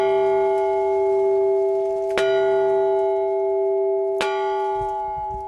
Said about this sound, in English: I'm honored to stand here today to ring the Maryville bell